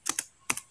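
A few keystrokes tapped on a computer keyboard, two quick clicks, a pause, then two more, close and fairly quiet with no talking.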